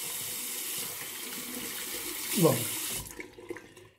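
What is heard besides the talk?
rinsing shaving brush under cold tap water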